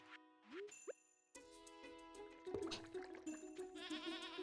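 In a farming video game, a goat gives a few bleats among light game jingles and chimes, clear and close, with no one talking over the sounds.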